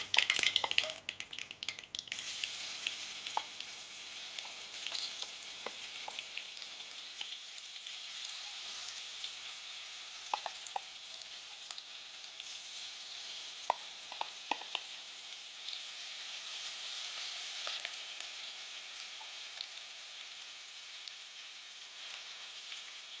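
Crushed garlic and chilli sizzle in hot oil with mustard seeds in a pan while an amaranth leaf bhaji is cooked, a steady bright hiss with scattered small pops and crackles, close and fairly even, no talking.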